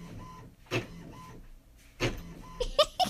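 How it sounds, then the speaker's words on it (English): Printer printing nearby, with rhythmic mechanical whirs and clicking feed strokes repeating in short bursts, separated by quieter pauses. "Tama and Kabe have never seen a printer work."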